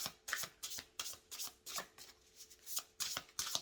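A deck of guidance cards is shuffled by hand in close, quiet riffles and slides that come as a quick run of short bursts, with no talking.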